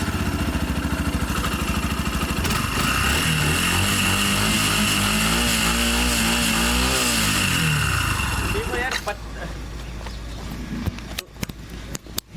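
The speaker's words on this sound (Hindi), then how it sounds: "एक बार रेव करके इसका साउंड सुनते हैं" A motorcycle engine, either a Bajaj Pulsar NS160 or a Yamaha FZ, idles in neutral and revs up and down in a long rising and falling sweep, loud and close, then drops back with some clatter.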